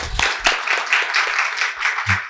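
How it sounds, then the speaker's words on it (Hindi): Audience applause at a Jeevan Vidya (Madhyasth Darshan) session in Ahmedabad, a steady wash of many hands clapping together, fairly loud and continuous for a couple of seconds with a few sharper claps near the start. "ताली बजा सकते हैं इनके लिए।"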